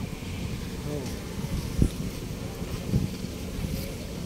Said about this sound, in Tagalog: Masarap ang hangin dito,